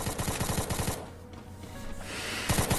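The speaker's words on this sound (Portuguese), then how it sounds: "Dá um tiro, dá um tiro, dá um tiro" Rapid bursts of gunfire in a shooting video game, a quick run of sharp shots, then a lull of ambient noise before another close volley at the end.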